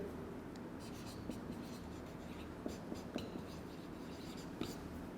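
Marker or chalk writing on a board during a statistics lecture, faint soft scratchy strokes with a few sharper taps over a quiet room hum, no voice over it.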